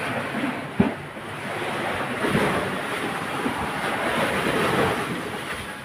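Large ocean waves surge and wash in a steady broadband roar, with wind buffeting the microphone throughout and one sharp splash or knock near the start.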